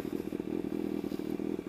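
Motorcycle engine with stock exhaust idling, a steady low pulsing thrum, quiet and fairly tame, alone for under two seconds.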